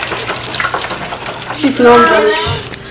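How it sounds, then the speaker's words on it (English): Peanut soup sizzles and bubbles in a pot, a wet hissing fry with some stirring and water-like splashing, heard up close while a voice talks over it. "Yeah, I still need to fry a little bit."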